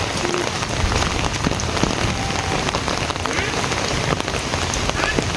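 Steady rain pours over a remote, densely settled village on a foggy afternoon, a continuous hiss of drops drumming on surfaces close by, with faint scattered taps and a few murmuring voices in the background.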